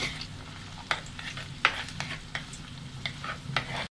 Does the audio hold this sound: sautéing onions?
yes